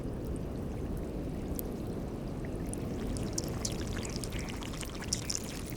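Ancient air bubbles escaping from melting glacier ice make a dense, continuous fizzing crackle, with scattered tiny plops and clicks popping out near the surface.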